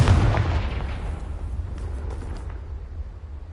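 A Confringo fire spell explodes against old rocks in the video game Hogwarts Legacy: one loud, deep boom that rolls off into a long rumbling decay, with no voices.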